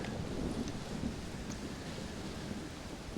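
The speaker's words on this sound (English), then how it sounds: "Well, it's just the storm, John." A thunderstorm rages in the Old West game Red Dead Redemption: Undead Nightmare, with steady rain hiss and low rumbling thunder filling the background, loud and continuous throughout, with no voices.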